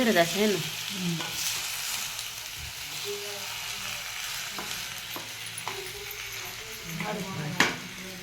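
Sweet potato slices with sugar and cardamom powder are stirred in a hot pan, a steady soft sizzle with scraping stir strokes throughout and a sharper clack near the end, with a voice faintly in the background.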